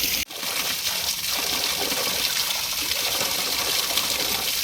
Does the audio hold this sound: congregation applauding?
no